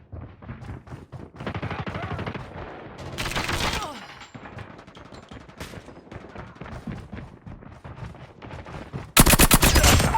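Rapid nail gun fire from Call of Duty Mobile, loud bursts of shots with thuds and impacts across the stretch, ending in a sharp dense volley.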